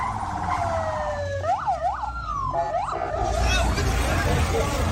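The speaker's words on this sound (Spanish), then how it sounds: "las ambulancias recorren frenéticamente las calles tratando de atender a los heridos" Ambulance sirens wail through Gaza streets after strikes, rising and falling in sweeping pitch over a busy backdrop of crowd babble and street noise, then giving way to louder general commotion.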